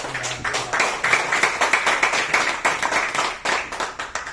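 A small group claps at an evaluation and vision-mission meeting, distinct fairly quick claps that start loosely and settle into a rough shared rhythm, close and moderately loud with no talking.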